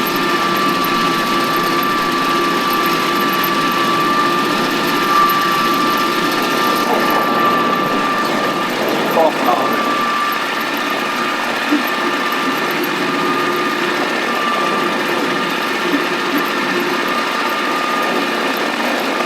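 A Japanese mini tractor with a newly rebuilt engine runs while tilling soil, a steady high-pitched mechanical drone with a constant whine that holds evenly throughout, close and loud with no talk.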